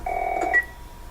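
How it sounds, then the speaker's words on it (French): A house telephone rings in The Last of Us: one short, fairly quiet electronic ring burst, then the line goes still. "Dring, dring, téléphone, maison."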